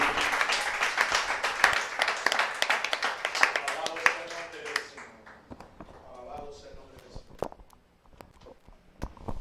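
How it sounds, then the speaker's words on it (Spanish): Church congregation applauding, a dense burst of clapping that fades after a few seconds into scattered claps, with voices speaking over it. "¿Por qué no le damos un aplauso al Señor en esta mañana?"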